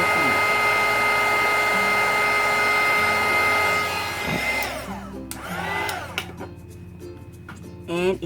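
Heat embossing tool warming embossing powder on a recycled birthday card, a steady close blowing whir that runs for several seconds before stopping and giving way to faint scattered handling noises.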